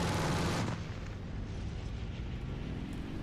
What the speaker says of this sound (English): I feel fairly comfortable firing even at a fairly long distance.